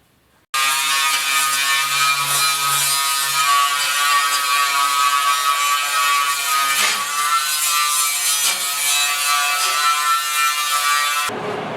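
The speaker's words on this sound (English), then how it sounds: "I'm going to do a little grinding" Loud, continuous whine of a power grinder working on the sandblasted bed bodywork of a 1969 Ford Bronco, running steadily for about eleven seconds with slight shifts in pitch as it bites the metal.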